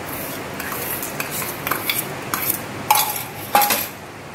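Malpua batter of flour and sugar being whisked in a bowl, with a run of quick clinking and scraping strokes against the bowl, moderately loud, and no voices.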